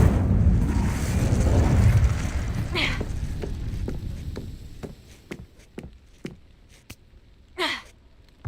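Incendio fire spells in Hogwarts Legacy: a rushing burst of flame and combat noise opens the clip, then fades into a string of sharp impacts and clicks with occasional breathy whooshes, some louder, spaced out across the rest of the clip.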